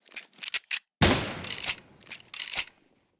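A PP-Bizon submachine gun fires in Counter-Strike 2. Several short, sharp bursts come first, then one longer sustained burst and a few more, all loud and close, with no talk.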